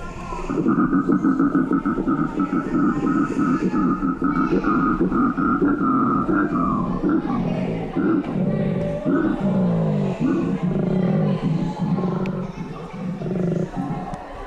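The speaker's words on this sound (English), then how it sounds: "This is the sound of a male koala when it wants to mate." A male koala's mating call: a deep, rumbling, snoring-like bellow repeats in pulsing grunts, loud and close, lasting several seconds with a raspy, throaty texture.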